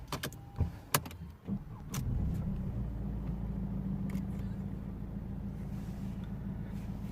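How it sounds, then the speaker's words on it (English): A Mercedes C220 CDI diesel engine in the C-Class, showing an engine warning light and limp mode, cranks over after a few clicks and settles into a steady, close, low rumbling idle with no talk over it. "I'm gonna start the engine."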